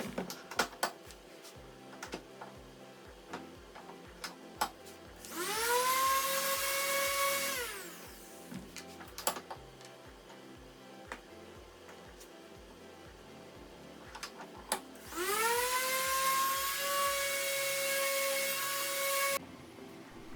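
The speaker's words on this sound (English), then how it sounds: "Now it's time to give a little sanding so that I could put some stain on it." A power sander on wood whirs up and winds down twice, each run lasting a few seconds, over a steady rhythmic backing beat.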